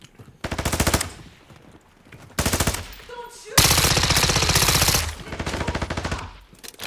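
Loud automatic gunfire from a rifle fitted with a full-auto switch in the DMZ video game, rattling in long bursts separated by short gaps, ending in a sustained barrage.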